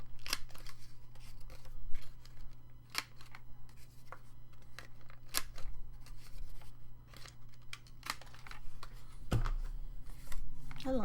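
A half-inch corner rounder punch trims paper corners for a small accordion mini album, giving sharp clicks and snips scattered through steady low room hum, fairly close.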